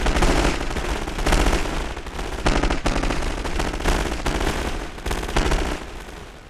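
Dense rifle infantry gunfire from a First World War battle in a Total War strategy game, with rapid overlapping rattling shots and machine-gun bursts sustained loudly throughout.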